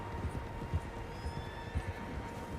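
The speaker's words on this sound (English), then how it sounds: "Horses, quite a few of them." Several horses clip-clopping in the Wild West game Red Dead Redemption 2, soft irregular hoofbeats at moderate distance with a faint neigh, over a quiet steady background hum.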